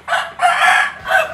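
Fighting cock crowing close by, loud and alone: two harsh bursts, a longer drawn-out call in the middle and a short final note.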